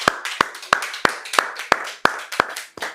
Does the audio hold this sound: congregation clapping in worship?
yes